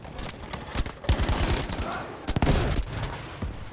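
Rapid bursts of Battlefield V gunfire crackle and thud repeatedly, dense and close, with occasional louder blasts.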